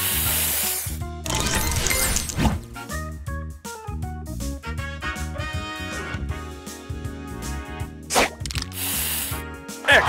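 Spray booster effect from the Match Master mobile puzzle game, a bright hissing spray burst layered with chiming, clinking game sounds and musical tones that run continuously and loud throughout.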